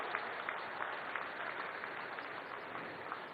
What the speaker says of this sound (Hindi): तालियों की गड़गड़ाहट से सचमुच नितिन जी का अभिनंदन किया जाना चाहिए